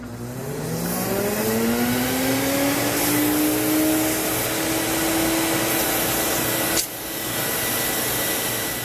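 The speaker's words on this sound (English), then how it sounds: "turn the machine on, and this will dry the hose for you" Sirena water-filter vacuum cleaner running close up, a loud steady motor whine that rises in pitch as it spins up, then holds and briefly cuts out before continuing.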